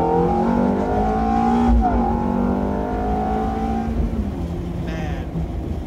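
A 2006 Ferrari F430 Spider's engine revs hard at full power, rising through the gears in a loud, close pull with a brief shift in the middle.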